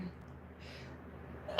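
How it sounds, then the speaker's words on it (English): One sudden loud sneeze comes right at the end, after a short quiet intake of breath, close to the microphone. "I gotta sneeze all of a sudden"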